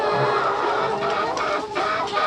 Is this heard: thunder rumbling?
no